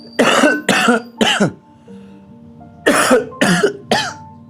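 Six harsh coughs close to the microphone, three in quick succession, a short pause, then three more with a faint hum between.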